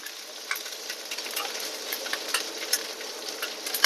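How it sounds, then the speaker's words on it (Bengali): Ginger and onion sizzle steadily in hot oil for a fish curry, a dense crackling hiss broken by a few sharper pops and stirring scrapes, close and fairly quiet, with no talking. "আদাটা তেলের মধ্যে ভালো করে বাছতে হবে"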